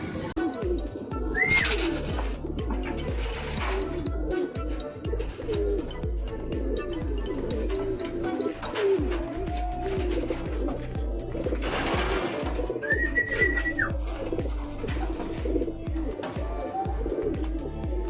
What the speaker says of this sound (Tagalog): Ito mga kalapatids, si Chegard Minalabak from kay RPC.